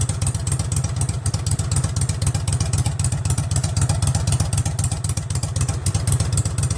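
A Craftsman garden tractor's 20.5 HP Kohler Command V-twin engine with a straight exhaust elbow, idling close with a loud, rapid, even lumpy pulsing that holds steady throughout, and no voices.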